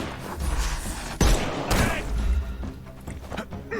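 A gunshot rings out in a Sherlock Holmes video game, one sharp loud crack followed by a second thud amid a busy, rumbling game soundtrack.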